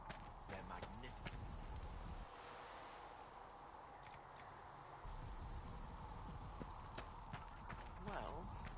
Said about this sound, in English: Have you seen the horses Master Dennet sent the Inquisition?